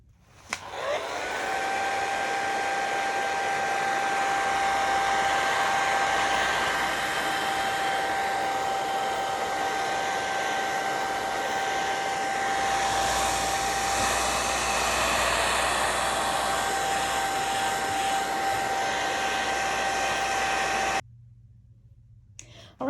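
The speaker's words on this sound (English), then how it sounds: "so I have done blow drying it" A hair dryer blow-drying a milk paint and alcohol ink artwork, a loud steady whirring roar with a constant whine that runs unbroken for about twenty seconds before cutting off abruptly.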